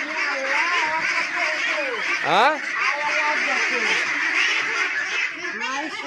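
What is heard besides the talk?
ducks quacking on a duck farm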